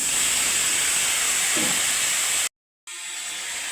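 Whole spices, green chillies, cauliflower and potato hit hot oil for a vegetarian dish, giving a loud, dense, continuous sizzling hiss that cuts off abruptly, then returns a little quieter.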